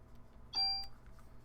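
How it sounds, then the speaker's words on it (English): A bell charm in the video game Parasite Eve chimes once, a single clear ringing tone that sustains briefly and fades, against a quiet background hum. "It's a bell to keep away bad spirits."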